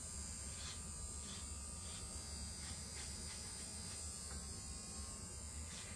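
Electric hair clippers buzzing continuously while trimming hair at a high-and-tight fade haircut, a steady close drone with faint rhythmic variations as the blades pass through hair.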